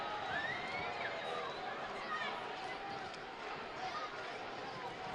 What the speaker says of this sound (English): the crowd chanting for Alex Tambakis after that save